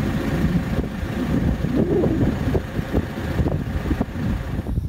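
Steady, loud wind buffeting the microphone outdoors, a continuous low rumble with gusty swells throughout.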